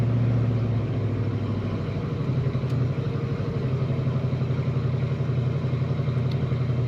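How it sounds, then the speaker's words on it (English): A 1971 Pontiac LeMans convertible, with an engine stronger than a V8, rumbles through its exhaust with a steady, mean, low burble at close range while driving, with no talk over it. "Nice mean sound to this exhaust."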